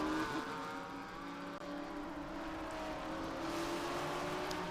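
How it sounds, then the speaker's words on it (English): A race car runs on the Mid-Ohio circuit during an SVRA and International GT race weekend, its steady loud engine roar holding for several seconds as it passes the commentary booth, with no talk over it. "There goes Stubber in front of the booth, making some beautiful noises out there"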